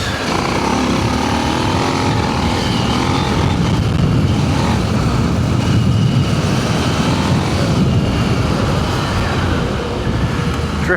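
A KTM 890 motorcycle power-slides along a rocky trail, its engine droning steadily and loudly up close for the whole stretch, mixed with wind and the rumble of tires over loose stones.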